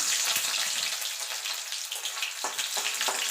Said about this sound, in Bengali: দেখুন বন্ধু তেলটা গরম হয়ে গেছে রসুনটা দিয়ে দেবো